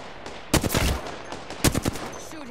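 Gunfire in the video game Apex Legends: two short bursts of rapid shots, the first around half a second in and a second burst near the middle, loud and close, with quiet game ambience between them.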